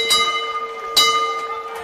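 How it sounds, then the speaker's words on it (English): Boxing bell clanging to mark the end of a round at a WABU super featherweight championship bout, two sharp strikes about a second apart with ringing tones trailing over crowd noise. "Bell will sound for the end of the round."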